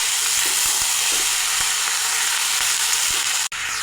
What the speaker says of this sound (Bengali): পেঁয়াজ ভাজা হয়ে গেছে, কেটে রাখা মূলা দিয়ে দেব